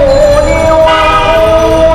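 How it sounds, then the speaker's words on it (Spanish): Loud, sustained horn blasts blare continuously through dense traffic in a crowded, overpopulated city, with steady tones overlapping over a constant road rumble. "Todo el mundo va pitando, no se paran de escuchar pitos por todas partes."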